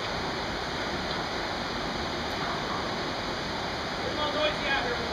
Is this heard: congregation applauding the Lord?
no